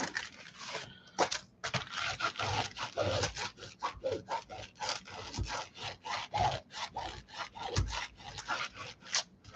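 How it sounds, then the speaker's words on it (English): A scraper rubbed repeatedly along the paper edges and corners of a junk journal, giving a quick series of close, rhythmic rasping strokes. "Scrape, scrape, scrape, scrape, scrape. Scrape down the edges, the corners."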